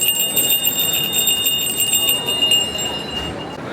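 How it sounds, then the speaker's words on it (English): Bear bell at a New Hampshire general store stall inside a state fair exposition hall, ringing as a steady high metallic jingle over dense crowd chatter and hall noise. "that's a bear bell. So you put that on your clothing and it rings the bell while you're walking"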